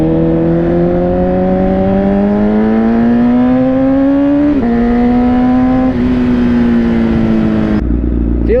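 Honda CBR1000RR SP motorcycle riding in slow highway traffic, a loud close engine drone rising steadily in pitch under acceleration with brief gear-change dips near the middle and end, wind noise underneath.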